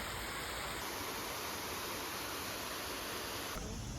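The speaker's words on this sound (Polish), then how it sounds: "To jest jakiś park taki znaleźliśmy z wodospadami też." Waterfall in a park, a steady broadband rush of falling water that stays constant throughout, with a faint high tonal whine present in the background.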